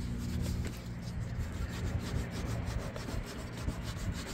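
Steady, rhythmic hand sanding, a dry rasping rub on wood repeated in quick strokes, close up and alone.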